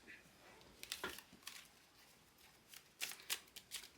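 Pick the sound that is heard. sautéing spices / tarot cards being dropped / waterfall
tarot cards being dropped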